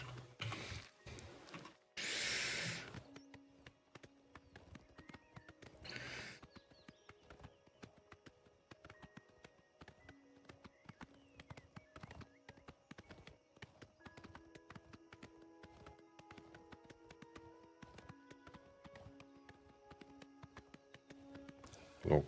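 Horse hooves clip-clopping in the video game Oblivion, a steady run of light, hollow knocks at moderate volume after a few louder thumps at the start, with no talking.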